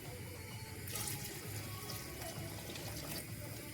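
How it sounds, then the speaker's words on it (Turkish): Warm water pours steadily into a pot of partly cooked beans for an Azerbaijani lobya chygyrtmasi, a continuous close splashing and rushing flow that lasts throughout. "Üstünə lobyalarımızın üstünə qalxacaq qədər ilıq su əlavə edirik."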